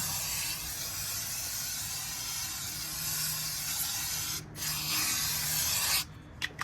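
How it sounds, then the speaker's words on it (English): An aerosol can of brake cleaner sprays onto a 2019 Toyota Corolla's brake rotor in a long continuous hiss, broken by a short pause and then a few quick bursts near the end. "So I'll just go ahead and give it a quick spray."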